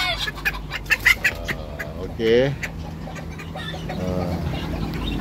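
Java green junglefowl and serama chickens in pens, giving short clucks and a brief crowing call amid a person talking nearby.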